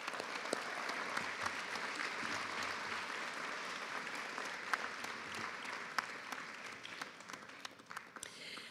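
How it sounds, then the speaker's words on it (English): Sustained applause from a large audience at a university graduation ceremony for Bachelor of Arts graduates, continuous clapping heard at a distance and fairly faint, with a few sharper claps standing out. "Can we have a big round of applause for all our graduates today of the Bachelor of Arts at MIC?"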